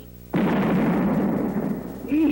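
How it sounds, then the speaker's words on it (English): A cartoon explosion from The King and Odie goes off with a sudden loud blast, then settles into a long roaring rumble that fades slightly before a brief voice-like tone rises near the end. "I thought I heard a noise like an explosion"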